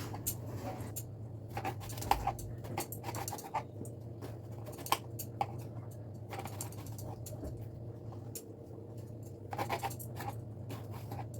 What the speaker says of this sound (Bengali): বেগুনটাকে আমি ডুমু ডুমু করে কেটে নিচ্ছি।